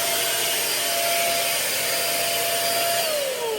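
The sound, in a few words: SIN SHINE Compressed Air 3.0 blower blowing leaves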